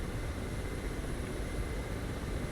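A Ka-50 helicopter in a video game drones with a dense, steady engine and rotor roar, loud and unbroken throughout, with no talk.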